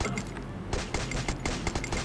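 Crossbow bolts burst repeatedly in the Free Fire mobile shooter, producing a dense run of sharp explosive cracks and thumps over steady game noise.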